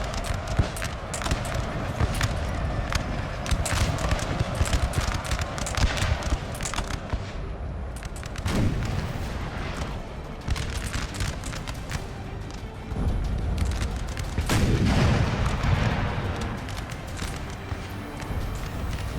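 Battle noise from the Napoleon Total War video game, with dense crackling volleys and booming artillery fire rolling on in waves, loud and busy throughout.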